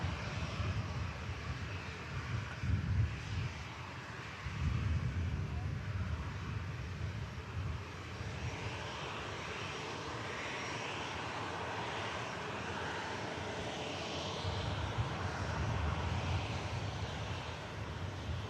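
An IndiGo airliner lines up on the runway at Manchester Airport, its jet engines producing a steady, broad roar from a moderate distance that swells slightly at moments and holds throughout.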